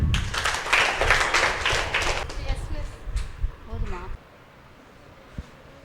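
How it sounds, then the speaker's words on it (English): Students clapping together in a school chemistry class, a dense burst of applause for about two seconds that thins into scattered claps before stopping, with voices mixed in. "Give him a clap."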